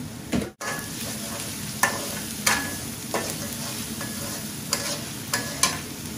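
Three bay leaves fry in hot oil for a Sylheti village-style akhni, a steady close sizzle broken by a few sharp spoon scrapes and knocks against the pan.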